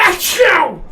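A single short, sharp human sneeze, loud and close, over in under a second.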